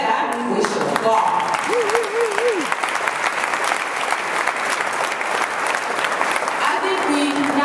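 A breakfast audience at an MLK community event breaks into sustained applause, steady clapping across the whole stretch with a few brief vocal whoops and murmurs mixed in.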